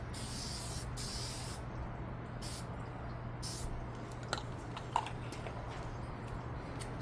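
Aerosol spray applying a light first coat to a headlight housing, heard as three long hissing bursts early on over a steady low hum, with faint clicks afterward.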